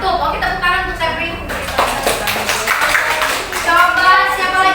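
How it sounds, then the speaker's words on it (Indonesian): Classroom applause for a student named Sepri, with a burst of many hands clapping in the middle of a lesson, close and lively, while children and a teacher talk over it. "tepuk tangan untuk Sepri"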